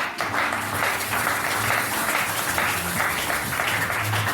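A church congregation applauds during a Sunday service, a steady wash of many hands clapping that holds at an even, fairly loud level from start to finish.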